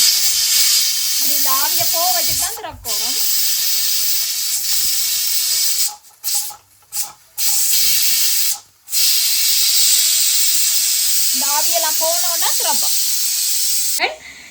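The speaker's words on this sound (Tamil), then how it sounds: "அந்த மூடியை கொஞ்சம் லேசாக செய்து விட்டுட்டு இப்படி செஞ்சு அதை அந்த ஆவியை போக வச்சுட்டு பயந்துடாதீங்க சத்தம் கேட்கும்" Steam from a pressure cooker holding mutton biryani blasts out of the loosened lid in a loud, harsh hiss that cuts off briefly several times. A person talks over it twice.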